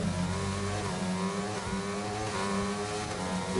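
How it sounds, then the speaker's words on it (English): Racing car engines in a video game whine and rev continuously at high pitch, a steady loud drone with shifting tones, no voices. "if we watch the cars driving, the sound is almost on every car the same"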